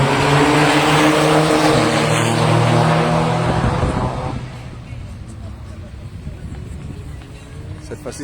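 A Peugeot 205 and a Skoda Fabia race car accelerate hard in a 200 m run battle, loud engine roars climbing through gears, then fading as they move away, with a voice talking over them.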